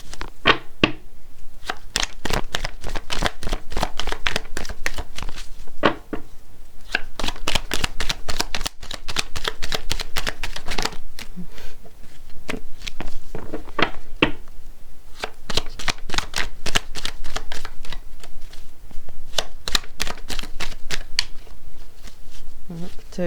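Playing cards are shuffled repeatedly up close, producing rapid riffling bursts and crisp flicks in a steady rhythm, with short pauses between rounds and occasional soft speech in the background.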